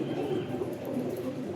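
Kajal breed pigeons, young high-flying birds, give a brief low murmuring coo amid a dense, steady background of nearby flock noise.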